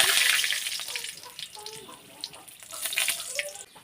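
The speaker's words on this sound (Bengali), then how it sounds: "এটা এখন আমি ভালোভাবে ভেজে নেব।" A bay leaf and four dried red chillies fry in hot oil in a pan, giving a steady crackling sizzle that starts loud and eases into fainter popping, with no voice over it.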